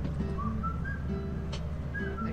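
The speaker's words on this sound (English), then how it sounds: "What's the whistling?" Thin, wavering whistle notes in the video game Lethal Company, several short rising tones repeating over a low droning background hum, moderately loud with no speech.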